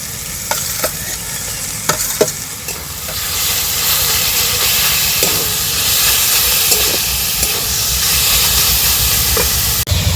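Small chicken pieces dropped into a pan of frying spices with salt and turmeric sizzle loudly and continuously, with scattered sharp clicks of stirring across the whole stretch.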